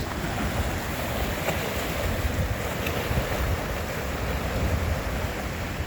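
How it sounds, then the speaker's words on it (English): Ocean waves surge against rocky cliffs along a coast, a loud continuous wash of surf mixed with heavy wind rumble on the microphone, with no voices. "Let's follow these waves in right here."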